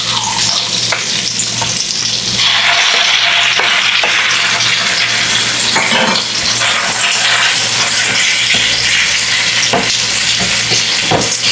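Beef hitting a hot pan for a stir fry, a loud continuous sizzle and crackle with stirring scrapes and spatters, close up and steady throughout.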